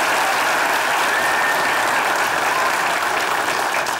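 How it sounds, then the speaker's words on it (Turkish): A studio audience applauds the actors after a comedy sketch performance, steady dense clapping that fills the space, loud and continuous without pause and with no voices over it. "Gerçekten oyuncularımızı bir alkışlayalım yani."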